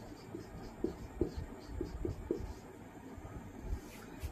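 Chalk or marker scratching across a classroom board during a chemistry lesson on solution molarity, a series of short faint strokes with pauses, quiet room tone and no talking.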